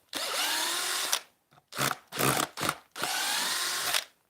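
A power drill bores a clearance hole in wood for shelving brackets, whining loudly up close in several bursts: a long run, short stuttering pulses, then another steady run.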